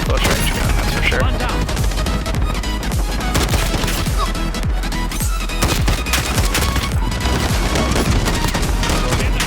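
Video game gunfire from the CR-56 AMAX assault rifle rattles out in loud, rapid bursts that continue almost without a break, with dense impacts layered throughout.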